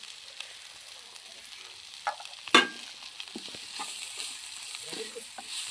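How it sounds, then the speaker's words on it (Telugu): Cauliflower curry frying in a pan, a soft steady sizzle with scraping stir strokes and one sharp clack of the spoon against the pan. "కూర అయితే ఫైనల్గా ఫ్రై అయిపోయింది"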